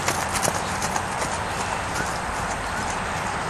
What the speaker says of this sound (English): He's got a nice flowing canter.